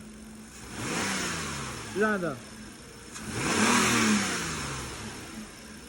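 A Mercedes car engine revs up twice in quick bursts, rising and falling, with a brief spoken remark between the revs.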